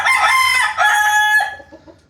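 A 5-month-old stag rooster of a McLean and blue gamefowl cross crows once nearby, a loud, drawn-out call that rises and then trails off into quiet.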